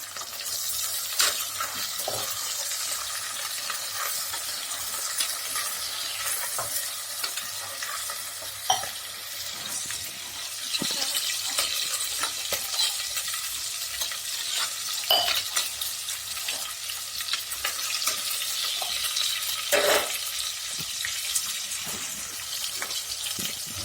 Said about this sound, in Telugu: వేగాలి కాసేపు. కలుపుకోవాలి అన్నమాట.